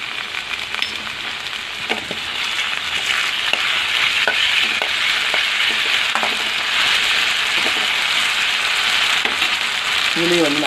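Ginger paste sizzles and fries in a hot pan for veg butter masala, with a steady close frying hiss and occasional scraping stirs.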